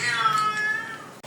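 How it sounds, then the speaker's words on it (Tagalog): A single long, drawn-out cat meow, loud and close, with a wavering pitch that rises and falls before cutting off abruptly. "Ingay ng pusa ko, lumalandi."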